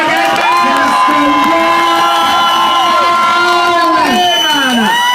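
A political rally crowd for the ABLP roars with loud, sustained cheering and whooping, dense shouting voices filling the whole stretch without a break.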